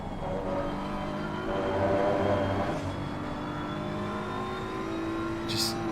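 In the racing game Assetto Corsa Competizione, an onboard BMW race car hums with a continuous engine drone that rises and falls through gear changes, with a faint whine on top.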